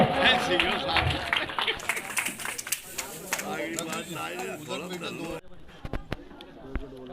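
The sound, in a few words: crowd clapping in welcome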